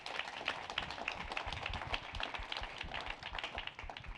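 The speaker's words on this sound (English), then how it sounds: "Can we get a huge round of applause for our 3 panelists?" Audience applause for three panelists at a food diversity discussion event, a dense, steady patter of many hands clapping at moderate volume throughout, with no one speaking.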